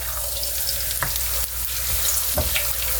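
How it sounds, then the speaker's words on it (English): Tacos fry in a generous layer of hot oil, producing a continuous dense close sizzle with a few sharp pops and clicks scattered through it. "So I'm actually going to fry the tacos in here."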